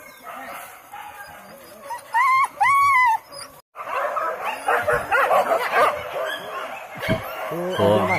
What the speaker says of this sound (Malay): Oh, anjing.